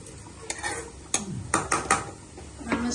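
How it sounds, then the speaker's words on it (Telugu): A spoon stirs chicken curry made with a kilogram of chicken in a pan, sending several distinct metallic clinks and scrapes at an uneven pace, close and fairly loud, with no voices. "నేను మధ్యలో కలుపుతున్నాను."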